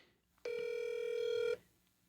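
A phone call rings once through the line, a single steady electronic tone lasting about a second and heard alone in a quiet room.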